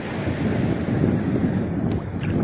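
Big sea waves surging steadily around a small boat out on murky open water, a dense continuous wash mixed with heavy wind rumbling across the microphone.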